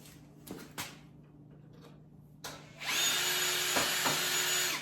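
A power drill drives screws into a DIY gate kit from Home Depot, with a couple of short bursts first and then a longer sustained whine with load changes, close and clear with no talk.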